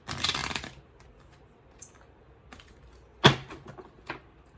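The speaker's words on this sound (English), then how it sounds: "Sometimes the deck is hard to shuffle." A deck of tarot cards is shuffled with a stiff, hard-to-shuffle feel, giving an initial flurry of riffling followed by sparse clicks and one sharper snap near the end, close and fairly quiet.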